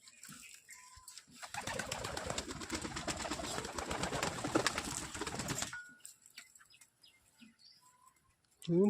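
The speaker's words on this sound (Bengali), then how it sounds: "প্রচুর পায়রা হয়ে গেছে, প্রচুর" A flock of pigeons at feeding time bursts into a dense flurry of flapping and cooing for several seconds, then settles into near quiet.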